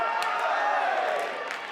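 Wrestling crowd at a live match yelling and cheering in a steady, dense roar, loud and continuous throughout with a few sharper shouts rising out of it.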